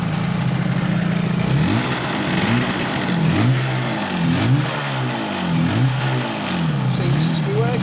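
A car engine revs repeatedly with a rev counter newly connected, rising and falling in several rhythmic bursts above a steady idle, close and fairly loud, with a voice faintly heard over it.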